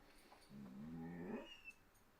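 A single drawn-out dog yawn, rising and bending into a faint squeaky whine at the end, quiet and close in an otherwise still room.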